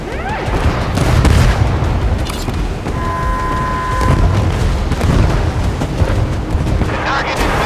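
Rocket fire and heavy booming explosions from a naval warship video game, rumbling continuously and loudly with repeated blasts, a tonal alarm-like drone partway through, and a voice talking underneath.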